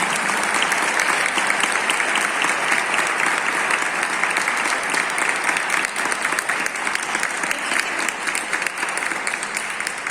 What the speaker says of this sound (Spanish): Aplauso a Sara Wilken.